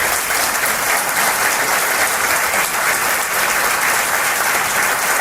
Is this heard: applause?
yes